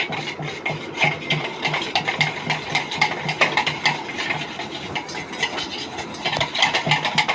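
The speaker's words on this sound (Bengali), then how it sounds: "ফুড কালার দিয়ে আমিও সেটাকেও কিন্তু ভালো করে এর সাথে মিশিয়ে দিচ্ছি" Food colouring being stirred into the mixture for triangle tea-time snacks: a steady run of quick, close scraping and clinking strokes that repeats the whole way through without a pause, with no voices.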